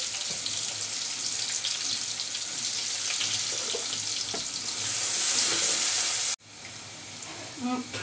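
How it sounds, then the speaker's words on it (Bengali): Chopped garlic and onion fry in oil in a pan for a tomato egg curry, giving a steady, dense sizzle with light stirring that cuts off sharply near the end, followed by a few faint clinks. "পেঁয়াজ আর রসুন হালকা ভাজা হয়ে গেছে।"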